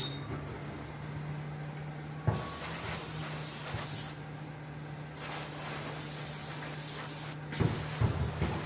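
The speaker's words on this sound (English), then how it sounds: "this has been blasted with the brake cleaner" Brake cleaner sprayed onto an antique pipe wrench in bursts from an aerosol can: a sharp hiss starts around two seconds in, pauses, resumes, and finishes with a final burst over a steady low hum, with metallic clinks at the start of some bursts.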